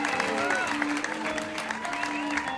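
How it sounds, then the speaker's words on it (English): An audience applauding a storyteller taken onstage at a storytelling slam, a dense, sustained clatter of clapping from a crowd, with a voice speaking over it. "Big round of applause for Dave Child."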